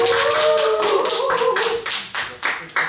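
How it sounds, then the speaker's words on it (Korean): An audience at a studio talk show gives a short round of clapping that starts full and close, then thins into a few scattered claps before stopping, with a faint tone ringing underneath. "박수 좀 주십시오."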